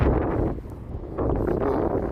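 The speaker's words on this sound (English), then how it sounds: "it's pretty windy out here" Cold wind blows beside a lake in Chicago, buffeting the microphone with loud, rough rumbling gusts that dip briefly before surging again.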